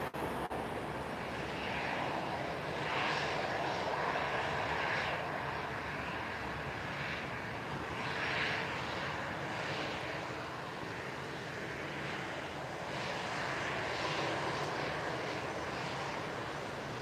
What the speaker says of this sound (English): So the Transavia is a B737.